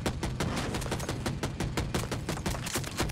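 Rapid automatic gunfire aimed at a scout helicopter in Battlefield 2042, a dense, loud, continuous burst of shots with no pause and no talk over it.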